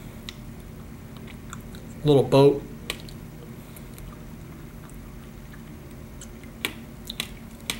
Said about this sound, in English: I don't know if you can hear that. It's got a crunch. The seeds are awesome.